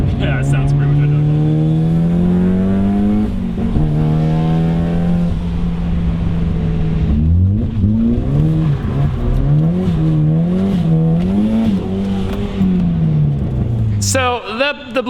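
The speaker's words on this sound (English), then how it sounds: "So the blow-off valve doesn't really sound that much different. It's a little bit higher pitch." Car turbo blow-off valve and compressor surge during revving, loud sustained engine tone rising and falling in pitch through repeated revs, ending with a sharp release burst.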